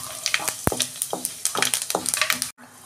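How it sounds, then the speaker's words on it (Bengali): Bay leaf, whole cumin and fennel seeds dropped into hot oil over a low gas flame, crackling and popping in quick irregular bursts over a steady close sizzle, with a spoon scraping and a sharp clink. "ওই তেলের মধ্যেই আমি এই ফোড়নটা দিয়ে দিচ্ছি, তেজপাতা আর গোটা জিরে, মৌরি"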